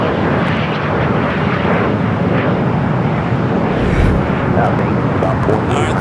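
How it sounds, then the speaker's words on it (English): A heavy Air Tahiti Nui Boeing 787 Dreamliner, Flight 102 from Papeete, arriving on the south side of Los Angeles International Airport, giving a loud, steady broadband jet roar that holds for several seconds, with faint talk beneath. "the second Air Tahiti Nui Dreamliner, Flight 102, coming from Papa Ete. Next heavy arrival here on the south."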